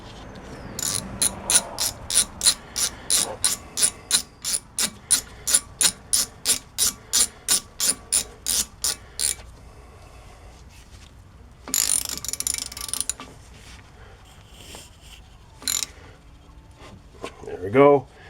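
A ratchet drives a Torx head brake bolt back in on a 2007 Chevy Impala's rear brakes, with a long run of quick, even, close clicks followed by a brief burst of spraying and scattered clanks.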